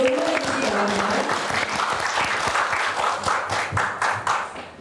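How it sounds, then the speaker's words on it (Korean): A seminar audience at a social welfare public forum on the climate disaster era applauds to welcome the moderator. Dense, steady clapping runs loud and close for the whole stretch, with voices mixed in early on. "큰 박수로 환영해주시기 바랍니다."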